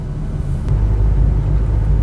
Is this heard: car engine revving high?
yes